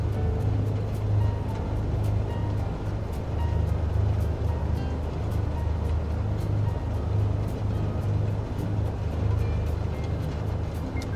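A single aircraft engine in a flight simulator runs steadily at 1,000 RPM, giving a continuous low, even drone that holds at the same level throughout.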